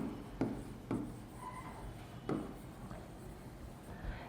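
Pen strokes on an iSBoard interactive board, a few soft scratchy taps and short rubbing strokes, faint and close, with no talking.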